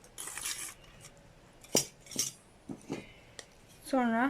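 A teaspoon clinks against a glass jar while citric acid is spooned into a little water, giving a few sharp, light metallic taps scattered through the clip, with a short spoken word near the end.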